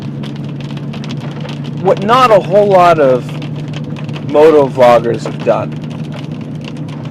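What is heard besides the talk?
heavy rain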